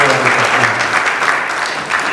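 Loud, dense applause from an assembled audience at a Jain religious gathering, continuous clapping close up that eases slightly toward the end.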